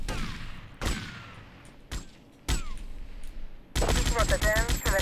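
Gunfire in GTA Vice City with the Tightened Vice mod: several sharp single shots spaced apart, then a rapid burst of automatic fire at the end, loud and close, with faint background voices.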